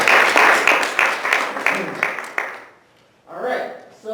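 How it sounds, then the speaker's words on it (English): Applause from a classroom audience during a talk on student debt and scholarships, a dense burst of clapping that fades out after a couple of seconds, followed by a brief pause and then a voice speaking. "Everybody give her a round of applause."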